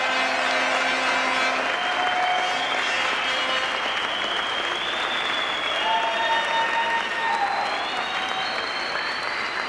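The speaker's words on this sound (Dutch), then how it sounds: "Geef ze daarom een fantastisch applaus, want ze zijn fantastisch." Audience applause in a theatre for a 1986 stage performance by two singers: dense, steady clapping fills the whole stretch at even loudness, with some background tones running underneath.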